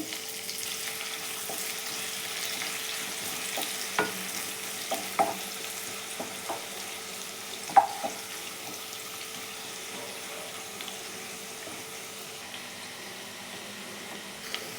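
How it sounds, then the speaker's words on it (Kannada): Sliced onion frying with spices in hot oil in a pan while making paneer masala curry, a faint steady sizzle with scattered light clicks and taps of stirring, no talking. "ಈಗ ಈರುಳ್ಳಿ ಸೇರಿಸ್ಕೊಂತೀನಿ"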